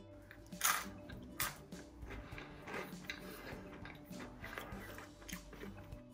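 Crunchy bites into crispy, double-fried Belgian-style french fries, heard as a few close, sharp crackling crunches and softer chewing noises at a quiet level, with no talk.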